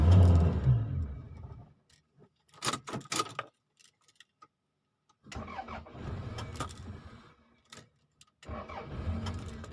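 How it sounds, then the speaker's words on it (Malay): A 1992 Toyota Camry with an ECU problem cranks and briefly fires several times in separate bursts, with silent gaps between attempts, up close. "Okey, enjin berjaya untuk dihidupkan."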